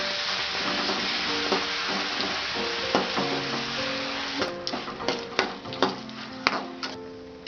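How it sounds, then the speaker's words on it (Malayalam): Pappadam frying in hot boiling coconut oil, a continuous close bubbling sizzle with scattered crackles, then a run of sharper spoon or utensil knocks near the end, no voices. "ഇനി നമുക്ക് പപ്പടം ഇട്ട് വറക്കാം."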